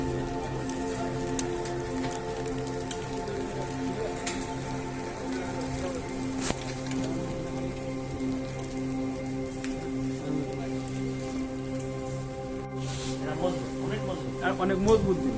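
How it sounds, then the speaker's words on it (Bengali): Rain during a thunderstorm in Qatar, a steady close patter of drops on hard surfaces over a low constant hum, continuing for the whole stretch while a voice talks now and then. "বৃষ্টি পড়তেছে।"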